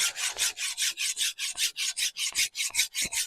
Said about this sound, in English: and a flat file. This removes any thicker bits.